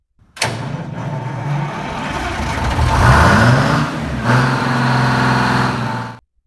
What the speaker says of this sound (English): What truly made the 6V71 iconic wasn't just the numbers, it was the sound and ubiquity.